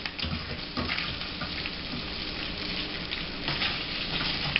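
Steady hissing sizzle of Spam slices frying in a hot pan, continuous and close, with a few brief clinks and bursts of crackle.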